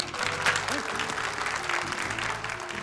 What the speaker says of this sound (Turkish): Bir cesaret alkışı alabilir miyiz arkadaşlar?